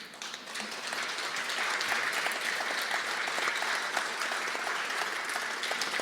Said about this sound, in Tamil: எல்லோரும் எழுந்து நின்று பலமாக கைத்தட்டுவோம்.